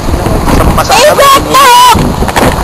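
Loud, blustery typhoon wind roars against the microphone on a baywalk, with a voice talking faintly underneath the constant rumble.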